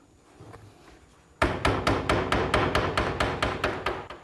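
Dowel pins driven into the wooden joints of an antique-style settle bench with a hammer: about a dozen sharp, loud, evenly spaced blows after a quiet start.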